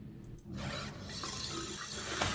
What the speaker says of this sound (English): Water goes straight into the drain.